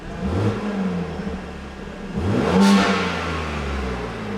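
A BMW G80 M3 with an S58 turbo inline-six and factory valved rear exhaust, valves closed, idles and revs with a rough, raspy drone, swelling in the middle before settling back to a steady rumble.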